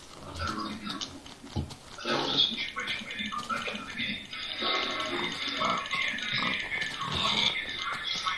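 Pigs in the Minecraft video game give faint, scattered grunts and squeals over quiet background ambience.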